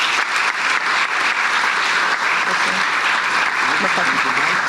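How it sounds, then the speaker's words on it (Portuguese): Sustained applause from an audience fills a municipal day ceremony in Marinha Grande, steady and fairly loud throughout, with faint voices underneath. "Uma salva de palmas para ele também."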